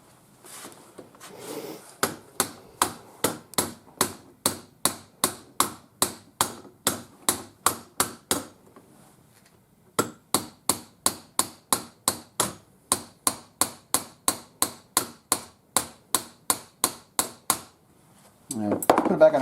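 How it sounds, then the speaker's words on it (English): A hammer knocks a metal casting out of a mold in steady, evenly spaced blows, two long runs of about twenty sharp, close raps each separated by a short pause, with brief talk at the start and end. "Let's get the other hammer here."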